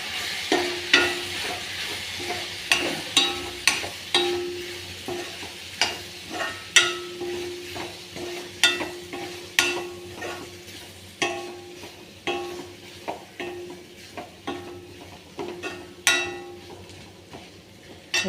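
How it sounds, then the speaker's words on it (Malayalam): Coriander powder and home-roasted garam masala stirred into a hot pan for a breadfruit koottu curry, with a spoon scraping and tapping in steady repeated strokes over a soft sizzle, close and clear, no talking. "എല്ലാം കൂടെ ഇട്ട് വഴറ്റണം"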